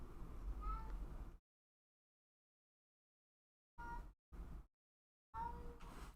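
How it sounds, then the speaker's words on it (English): A cat meows a few times nearby during a live drawing session, short separate calls set apart by silent gaps, with background noise between them. "Who's meowing?"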